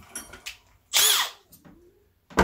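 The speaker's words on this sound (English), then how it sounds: "So now that I'm going to use a drill on" A power drill whirs in one short, loud burst while installing a deadbolt in a pocket door, with faint handling clatter before and after and another brief start at the end.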